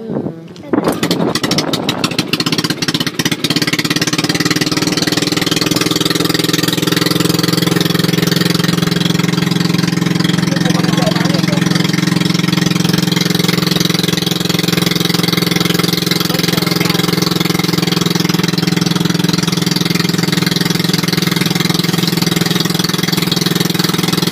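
A loud boat engine idles steadily and close, a low continuous rumble after some clattering at the start, running unchanged throughout.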